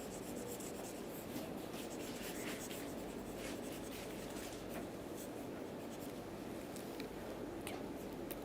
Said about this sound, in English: So, I will erase this steps.